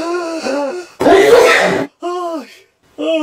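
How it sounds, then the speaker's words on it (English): A single loud, breathy sneeze bursts out between stretches of voiced, moaning sounds. "Shoot, I sneezed!"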